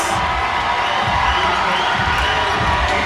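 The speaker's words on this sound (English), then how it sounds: "listen to this crowd" Crowd at a 5A bi-district high school girls' volleyball match between Birdville and Aledo, roaring and cheering steadily and loudly throughout, a dense wash of voices with no pauses.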